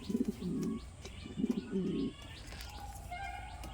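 Pet pigeons coo close by in two soft throaty bursts, with faint chirps and household background behind them.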